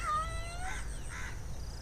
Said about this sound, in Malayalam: പൂച്ചയ്ക്ക് കുറുകെ ചാടാൻ കണ്ട സമയം.